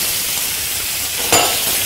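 Onions drop onto chicken frying in a pan, a loud steady sizzle with a sudden brighter crackling burst as they hit the hot fat near the end.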